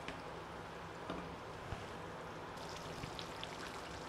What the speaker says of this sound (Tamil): இப்போ பாருங்கள் நல்லா கொதிச்சுட்ருக்கு பார்த்தீங்களா